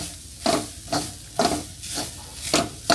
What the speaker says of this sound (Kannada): ಇವಾಗ ಕಾಯಿ ತುರಿ ಚೆನ್ನಾಗಿ ಹುರ್ಕೊಂಡಿದ್ದಾಗಿದೆ.